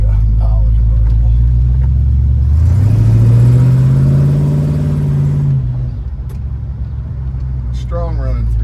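Rebuilt 327 V8 in a 1965 Chevrolet Impala Super Sport convertible, running strong with a steady low rumble that swells into a rising rev mid-clip, then settles back to idle; no voices over the engine.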